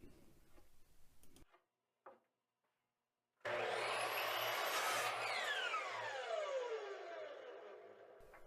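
A miter saw spins up and makes the final cut through a wooden dining-table apron piece, a loud close whine and rip of blade through wood that slowly winds down, after some brief faint workshop noise.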